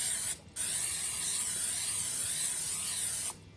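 Two bursts of aerosol cooking spray hiss into a cast iron pan, a brief first squirt then a long steady spray lasting about three seconds, close by.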